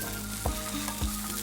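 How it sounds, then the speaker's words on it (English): A smash burger sears on a hot griddle right after being flipped, giving a steady close sizzle with two brief scraping thumps from the spatula. "let's flip our burger"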